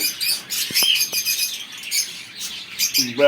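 Small pet exotic birds squawk and chirp in quick, busy bursts, fairly close, with a few sharp calls standing out.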